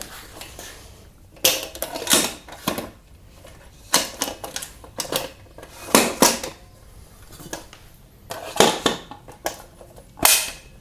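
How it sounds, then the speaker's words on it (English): Sharp mechanical clicks and clacks from a Kreg Track Horse sawhorse leg locking in place, about a dozen in irregular clusters, loud and close, with quiet gaps between them and no talking. "you want to hear that audible click and make sure your leg is locked in place"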